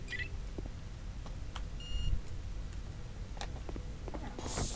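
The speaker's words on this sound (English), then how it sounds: "That is a very annoying beep." A repeated electronic beep from a door or keypad in Star Wars Jedi Knight: Jedi Outcast, sounding as short high tones over steady game ambience, with a brief thump midway and a hiss near the end.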